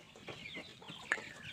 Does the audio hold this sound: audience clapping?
no